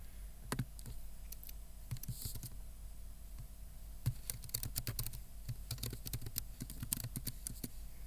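Someone types an email address and password on a computer keyboard, a steady run of quiet, irregular key clicks with brief pauses and a few sharper taps. Nobody speaks.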